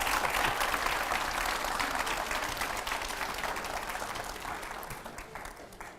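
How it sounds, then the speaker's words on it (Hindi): Loud, sustained applause fills a TV studio as a politician is welcomed onto a news panel show, steady clapping that gradually eases in volume over several seconds. "जोरदार तालियां"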